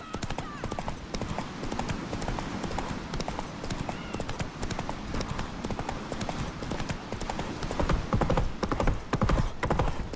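Roach, a horse in The Witcher 3, gallops with rapid, steady hoofbeats and occasional snorts over game music and ambience, the pounding growing louder toward the end.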